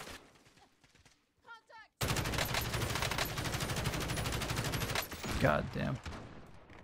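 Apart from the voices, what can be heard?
gunfire from rooftop in Call of Duty Warzone video game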